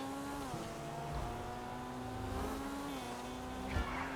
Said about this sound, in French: je pense qu'elle est surtout bonne en drift en fait